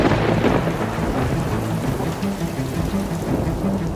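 Heavy rain pours steadily while deep thunder rumbles and rolls throughout, loud and continuous with no voices.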